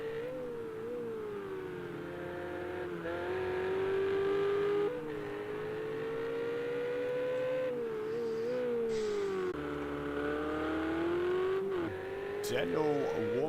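Race car engines from a PS4 Ford vs Ferrari racing game at COTA drone steadily and rise and fall in pitch through gear changes, with a brief tire squeal near the end.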